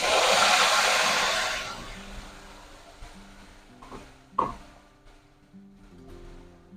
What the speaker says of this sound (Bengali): যে ভাজা মশলা যে পেস্টটা বানিয়েছি ওইটা এবার কড়াইয়ে দিয়ে দিলাম।